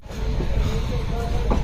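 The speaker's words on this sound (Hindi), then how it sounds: "यहाँ पे ट्रेन जा रही है।" A long train rolls past near Lucknow station, giving a steady, close, loud rumble with rail clatter throughout and a slight swell toward the end.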